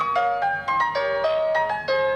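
A phone rings with a bright electronic melody of short stepped tones repeating in quick phrases, loud and close.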